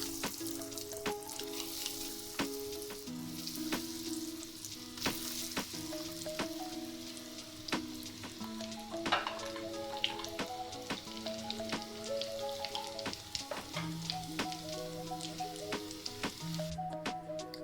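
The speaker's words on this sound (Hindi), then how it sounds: "बाकी की भी हम फ्राई करेंगे इसी तरह।" Egg rolls frying in hot oil, a steady close crackling sizzle with scattered pops, running continuously under a faint background hum.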